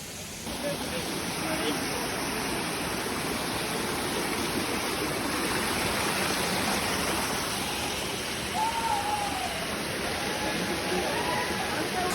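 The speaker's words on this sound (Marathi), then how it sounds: "आता वरती बघा वॉटरफॉल आहे." Steady, dense rush of a monsoon waterfall hidden in the Kharghar forest, constant and full-bodied throughout, with a faint whistle-like tone appearing near the end.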